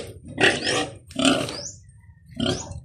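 Pig grunting at a house with a nipa hut about to be demolished, in three loud, close bursts of rough grunts with short pauses between them.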